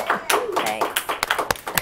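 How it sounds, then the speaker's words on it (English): A brief patter of scattered hand claps from a small audience on a local talk show greets a young female guest, mixed with people talking. "Little round of applause for this young lady."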